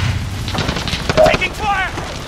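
Video game gunfire crackles in a short burst of rapid shots, then a voice shouts over the noise.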